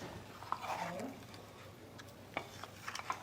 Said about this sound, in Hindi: पानी डाल के हम एक बार अच्छे से चला लेंगे।